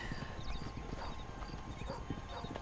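A horse gallops with rapid, even clip-clop hoofbeats and gives a short whinny in the Western video game Red Dead Redemption, the hooves loud and close throughout.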